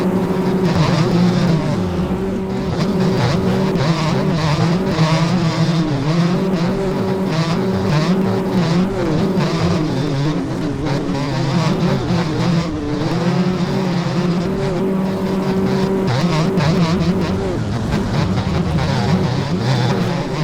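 Motocross bike engines racing in the video game MX Bikes, a loud continuous high-revving buzz with rising and falling pitch as the throttle shifts, dense and sustained throughout without talk.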